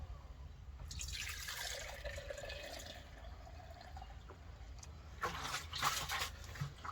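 Liquid pours gently into jars as a soft, close trickle with small drips, broken by a couple of brief clinks partway through, and no one speaks.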